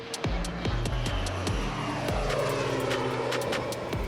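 Firefighting airplane engine as the aircraft prepares to drop water, a loud, close, steady propeller drone with shifting pitch and no voices.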